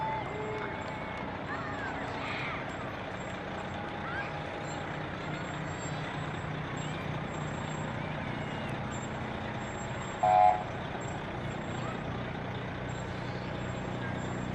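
Fire trucks roll past during a parade at a town light-up night, a steady low engine rumble with crowd and announcer voices over it and a brief horn-like tone near the end.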